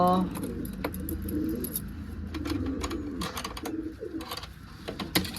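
Pigeons are let out of a rooftop coop, with soft cooing and fluttering wing movements close by, mixed with light clinking and occasional voices nearby.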